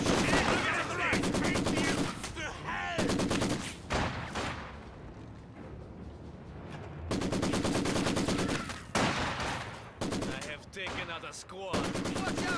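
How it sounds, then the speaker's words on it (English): Sustained gunfire fills a World War II battle in the video game Company of Heroes 2: rattling machine-gun bursts and rifle shots come in loud waves separated by brief lulls, with faint radio-style voices beneath. "Our headquarters is taking enemy fire."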